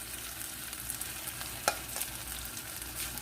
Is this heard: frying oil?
yes